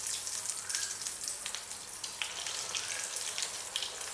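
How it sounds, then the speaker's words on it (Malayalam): Breadcrumb-coated kappa unnakkaya, a stuffed tapioca snack, frying in hot oil with a steady, soft sizzle and fine crackling bubbles, close and continuous with no talk. "ഇനി ഓരോന്നും ഇട്ട് കൊടുത്ത് നമുക്ക് പൊരിച്ചെടുക്കാം."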